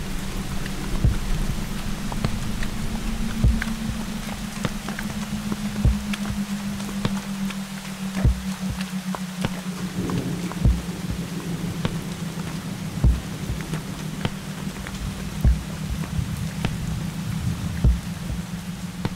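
Steady rain pours down with rumbling thunder through a stormy night, a dense continuous wash of drops broken by irregular louder cracks and patters, with no voices.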